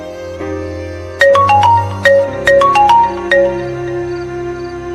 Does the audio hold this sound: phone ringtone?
yes